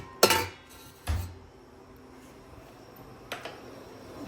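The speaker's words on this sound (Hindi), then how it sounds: "ये है आंटी के हर साइज के चाय वाले बर्तन।" Metal tea pots of various sizes being handled in a home kitchen, giving a few sharp clanks and clinks in two close bursts, then a softer knock after a quiet pause.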